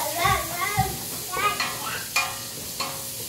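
Onion, ginger and garlic sizzle in a hot pan at home, stirred now and then with a few scraping taps, while a voice and children's chatter carry faintly in the background.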